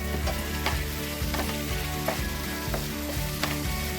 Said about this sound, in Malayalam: ഇതൊന്ന് നമുക്കൊന്ന് വഴറ്റിയെടുക്കാം